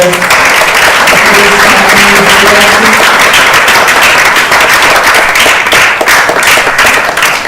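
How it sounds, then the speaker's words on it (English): A large audience at a community talk gives a loud, continuous round of applause, dense clapping that stays strong throughout, with a faint voice briefly at the start. "Big round of applause for"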